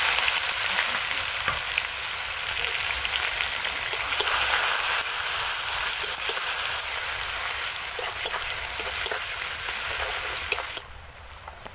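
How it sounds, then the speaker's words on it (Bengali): Sliced onions fry in mustard oil in a wok with dried red chillies and whole cumin, giving a steady, close, dense sizzle with scattered stirring clicks that drops abruptly quieter near the end. "পেঁয়াজটা ভাজা ভাজা হয়ে গেছে"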